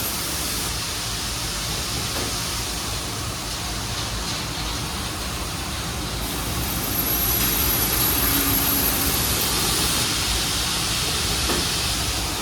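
An automatic CNC frame cutting machine, model TS-J39L PQJ, runs with a steady, loud broadband hiss and hum throughout, with no talk.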